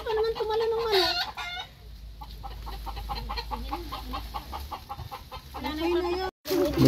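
Chicken clucking in a rapid, steady series of short calls, with a longer crow-like cry near the start and brief voices in the background.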